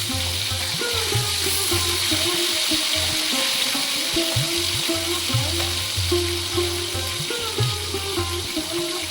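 Pomfret fish frying in a pan until lightly reddened, giving a steady, close sizzle and crackle of hot oil that continues throughout without talk.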